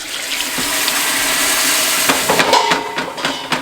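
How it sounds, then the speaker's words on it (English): Plain water pours into a hot pot for a seafood boil as a loud, close rushing gush that sputters and splashes toward the end. "So I'm going in with plain old water."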